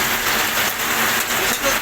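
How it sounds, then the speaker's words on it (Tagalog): Heavy rain pours steadily during home cooking of ginataang langka with ginger, a dense, constant hiss of drops on a surface that fills the whole moment without letup. "ang lakas ng ulan"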